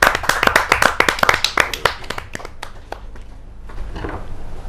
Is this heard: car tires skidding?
no